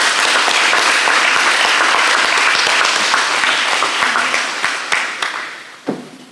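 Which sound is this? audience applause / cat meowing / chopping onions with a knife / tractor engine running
audience applause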